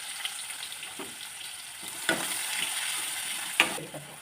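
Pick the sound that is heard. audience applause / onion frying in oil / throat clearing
onion frying in oil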